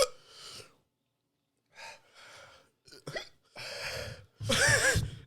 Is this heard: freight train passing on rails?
no